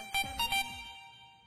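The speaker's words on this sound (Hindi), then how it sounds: "तिवारी जी का फोन" A phone rings in short repeated electronic bursts, three quick tones within about half a second, close and moderately loud in an otherwise quiet room.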